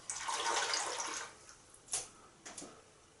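Water rinsing at a sink, a steady broad splash for about a second and a half that fades, followed by two short separate splashes, close and fairly loud with no talking.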